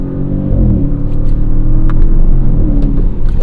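The engine of a 2022 Audi RS7 rumbles deep and close, its revs rising in quick surges as paddle-shift downshifts drop one gear after another.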